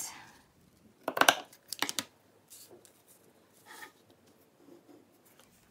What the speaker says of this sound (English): Okay, so I need to cut off a piece.